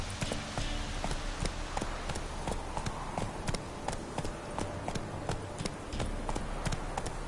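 Roach, a horse in The Witcher 3, gallops in a steady, fast clip-clop of hooves, each beat sharp and evenly spaced over a constant wash of in-game ambience, with no pauses across the run.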